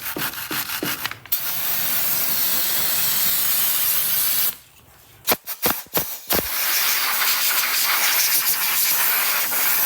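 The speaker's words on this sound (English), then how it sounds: "A little brake clean and a nylon brush." Aerosol brake cleaner sprayed onto a dirty brake caliper of a 2019 Honda Odyssey, long loud close hissing blasts broken by a short pause and a few quick spurts before the steady spray resumes.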